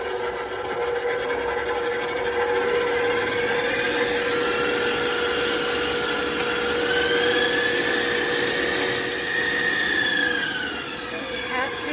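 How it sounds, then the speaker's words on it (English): An electric mixer with a whisk attachment whips heavy cream at high speed, giving a steady, close, continuous whirring hum that holds level throughout, with no talking. "And using the whisk attachment. Start the mixer with high speed."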